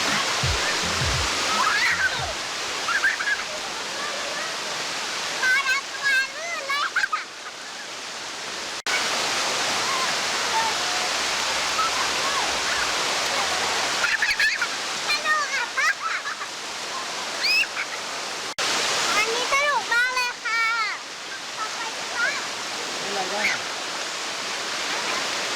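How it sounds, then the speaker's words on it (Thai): Sai Yok Noi waterfall in Kanchanaburi rushes in a dense, loud, steady wash of falling water, continuous throughout, with people's voices faintly over it at times. "นี่คือน้ำตกไซโยกน้อยครับ"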